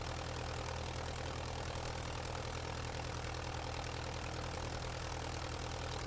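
Curtiss OX5 V8 engine of a Curtiss JN4 biplane in Flight Simulator, a steady rumbling drone with an even, unchanging pulse and no talk.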